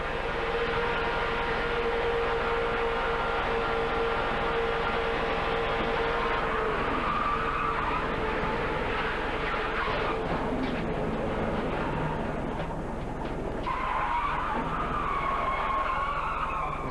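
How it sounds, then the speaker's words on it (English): Onboard a race car in the 2003 IROC race at Daytona, a loud, continuous engine drone holds steady, shifting pitch as the car runs, with the constant roar of wind and road noise. "This is from on board Steve's car."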